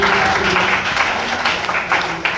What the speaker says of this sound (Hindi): फिर से एक जोड़ा ताली होना चाहिए हमारे गुरु महाराज